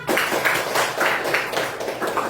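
Schoolchildren clap for a classmate in a classroom, a short burst of quick, rhythmic claps in an even beat for a couple of seconds.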